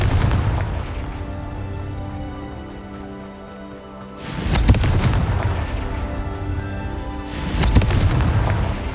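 Two heavy booming blasts from the Confringo explosion spell in Hogwarts Legacy, each a loud, close detonation over a dense rumbling game soundscape, the second arriving about three seconds after the first.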